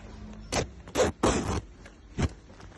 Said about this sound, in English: you can open from down with the two zippers right here